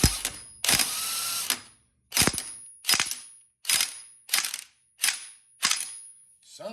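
An impact wrench works on the front sprocket nut of a Honda Africa Twin motorcycle, firing in eight short, sharp rattling bursts separated by brief pauses, loud and close with no talk.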